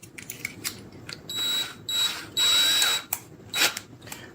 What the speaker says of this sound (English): get a drill bit that's big enough to go through that hole